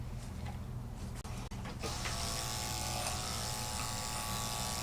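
Electric clippers shave the front of a Westie dog: a low, steady motor hum that turns brighter and buzzier partway through as the blades bite in, close and fairly quiet.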